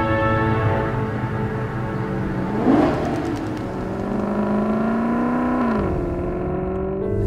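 Maserati GranTurismo engine runs with a smooth, sustained mechanical tone that rises in pitch as it revs, dips briefly, then climbs again before settling, heard close and without voices.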